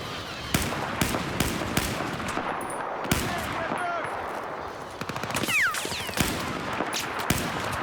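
Rapid bursts of DMR rifle fire in a first-person shooter game, loud and close, with sharp repeated shots spread across the whole stretch amid background battle noise.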